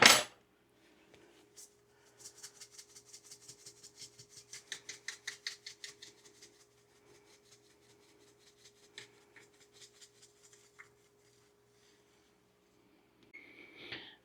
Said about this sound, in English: Okay, I've got them salted real good.